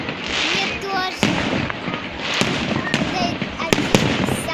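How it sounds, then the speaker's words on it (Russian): Large holiday fireworks display for a City Day celebration in Tyumen, with dense crackling and repeated sharp bangs over several seconds, loud and continuous, while people talk nearby. "Это один из самых больших салютов, да, папа?"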